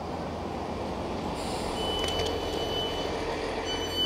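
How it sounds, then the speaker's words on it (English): A British passenger train on the line toward Bristol Temple Meads, heard as a steady rolling rumble with faint high whines and brief squeals, continuous and fairly close. "Here is the exact same train from before."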